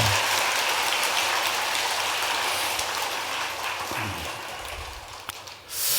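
Sustained applause from a temple audience for a choir after a Buddhist dharma talk, a dense, steady wash of many hands clapping that fills the whole stretch, then thins out and fades near the end.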